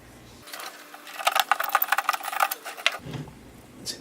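A power driver runs screws in to mount Kenworth T660 bi-xenon truck headlights, giving a short rapid buzzing rattle of about two seconds, close and moderately loud, with quieter handling sounds around it.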